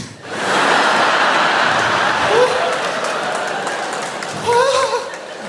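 Comedy club audience at a live stand-up show cheering and applauding in a steady, broad roar that fills the room, with a few scattered whoops rising above it toward the end.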